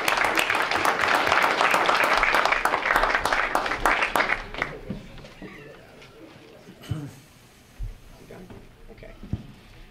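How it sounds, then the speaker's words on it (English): Audience at a school board meeting applauds, loud sustained clapping for about four seconds that tapers off, followed by quieter room noise, shuffling and a few sparse claps. "let's give your parents a round of applause"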